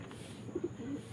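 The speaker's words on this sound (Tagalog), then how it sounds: "Panlaban mga kalapati" Soft pigeon cooing sits over a faint background hiss: two quick low coos, then a longer drawn-out coo, from fairly close but quiet.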